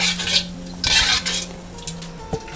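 A utensil scrapes and clinks in a frying pan while golden fried garlic is scooped out of hot oil, with a steady sizzle underneath and a few sharp metallic taps, no talking.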